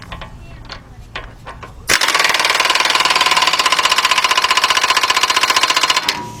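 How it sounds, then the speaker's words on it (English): An air impact gun tightens the center axle nut on a 2010 Honda Accord 2.4, a loud rapid hammering burst of about four seconds after some quieter clinks and handling sounds, heard up close with no talking. "So we're gonna take our air gun."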